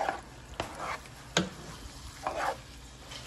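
A spoon stirring meat sauce for baked spaghetti in a pot, producing a low simmering bubble with several distinct scraping and clanking strokes at irregular intervals, close and moderately loud, with no voices.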